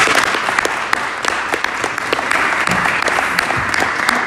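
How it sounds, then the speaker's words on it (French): Dense audience applause in a church after a pastor's testimony, a steady wash of many hands clapping at close range, loud and continuous with no pauses. "Donc si on peut l'applaudir pour ça,"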